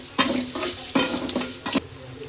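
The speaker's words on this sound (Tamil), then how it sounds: "இதில் வந்து பிரியாணிக்கு வெங்காயம் வெந்துட்டுருக்குது." Onions and chilies fry in oil for biryani, a constant sizzle broken by three or four loud stirring scrapes of a utensil against the pan, heard up close.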